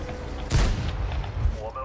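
A tank cannon firing in World of Tanks: one heavy booming blast with a sharp crack, followed by a rumbling tail and a second, softer thump under ambient game noise.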